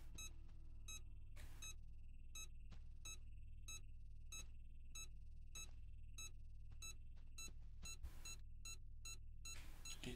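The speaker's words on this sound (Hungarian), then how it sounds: "Itt csipog, de itt semmi nincs." An electronic beeping signal from the video game Supraland, short bright bleeps repeating at irregular intervals over a low steady hum, quiet and with no voice.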